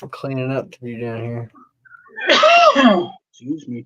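A man sneezes once, loud and close, between short bursts of his own speech in an indoor setting.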